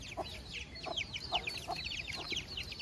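Chickens cluck repeatedly outdoors on a nighttime walk, soft and a little distant, with several birds calling in irregular overlapping bursts.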